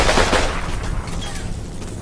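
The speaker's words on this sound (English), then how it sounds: "They're shooting at the church tower, that's annoying." Gunfire in the Combat Mission Final Blitzkrieg war game, aimed at a church tower: a loud, rapid volley of shots at the start that fades into a lower rumbling battle din.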